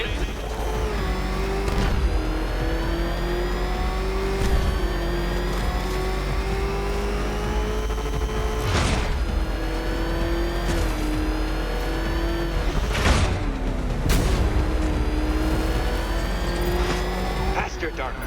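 The Batmobile engine in Batman: Arkham Knight roars steadily throughout, revving and shifting pitch at close range, with a few sharp impacts and skids mixed in while a voice talks over it.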